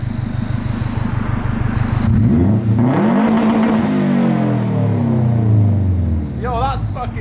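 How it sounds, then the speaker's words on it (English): A Subaru engine with the silencer and sports catalytic converter removed revs hard and loud, rising and falling in a throaty, rasping drone that fills the whole clip, with brief voices near the end. "remove the silencer and the sports cat out of the car. So it sounds a little bit louder now."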